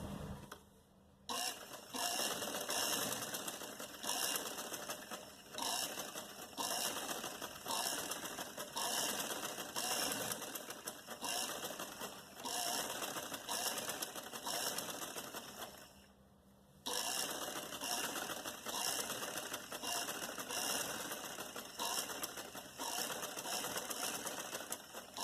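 A sewing machine stitches buckram onto a poncha, running steadily with a dense mechanical whirr and two short pauses, loud and close with no talk.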